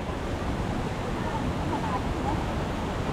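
Mountain-fed fountain water pouring steadily beside a pool, a continuous close hiss and wash of flowing water with no pauses.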